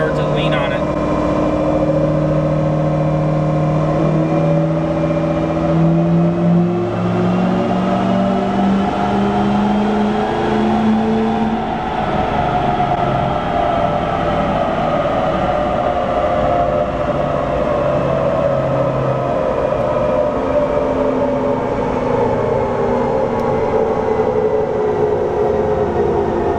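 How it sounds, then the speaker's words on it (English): A tuned L5P Duramax diesel truck engine on a dyno, held at steady load then leaned on as boost builds, a loud continuous drone with rising and falling harmonic tones throughout. "we're going to bring her up to 2250 and start test"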